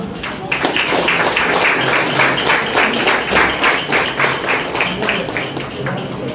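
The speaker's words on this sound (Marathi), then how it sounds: "तिकडे जोरदार टाळ्या होत्या." Steady, dense applause from a sizable audience at a student award ceremony fills the hall, a loud, even wash of many hands clapping that continues throughout without pause.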